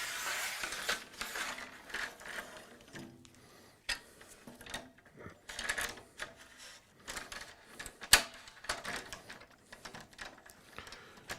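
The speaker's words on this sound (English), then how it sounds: "We can undo these two screws and then we can slide it up" Screws are undone and a guide rail angle accessory for an insulating material saw guide rail system is slid up, giving sparse ratcheting clicks, metallic scrapes and a sharp clack, close and fairly quiet.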